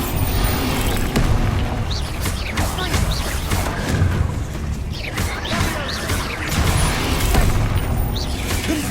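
Spell blasts in Hogwarts Legacy, repeated booming explosions and crashing impacts from Bombarda and similar blasting spells, punctuating a busy battle soundscape of whooshes and debris, loud and close.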